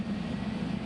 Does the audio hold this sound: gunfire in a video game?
no